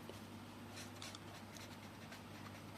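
Pen or marker writing out a table of flip-flop values, a faint scratchy stroking in several short bursts over a low steady hum, no voices.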